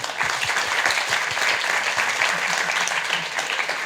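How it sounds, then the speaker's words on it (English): An audience applauds an award winner at a recruitment prize event, the clapping dense and steady across the room at an even level, with occasional low thumps underneath. "let's give her an applause"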